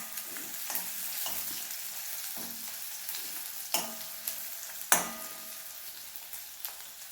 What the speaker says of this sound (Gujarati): એને આપણે 2 મિનિટ માટે સાંતળી લઈશું